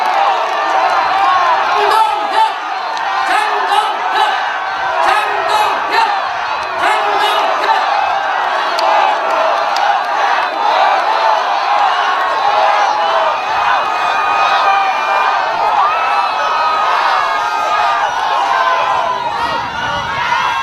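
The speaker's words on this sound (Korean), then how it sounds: "뜨거운 박수와 함성으로 많이 맞이해주시기 바랍니다" A large crowd at an outdoor political rally cheers, whoops and applauds steadily to welcome the party leader, a dense, loud roar sustained throughout with scattered shouts.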